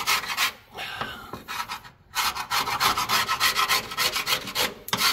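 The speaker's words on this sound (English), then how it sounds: "Let's do some satisfying grease scraping." A tool scrapes old grease off the frame of a 1964 Plymouth Fury in rapid, rasping strokes, close and fairly loud, with a few short pauses between runs.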